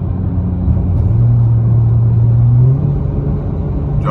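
A V6 muscle car with about 24,800 miles accelerates hard, heard close from inside the cabin: a deep engine rumble climbs in pitch, holds for a moment, then eases off.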